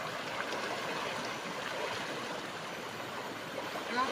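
River water flows steadily at close range while someone bathes in the Limau river, a continuous broadband rushing wash with no pauses, loud throughout.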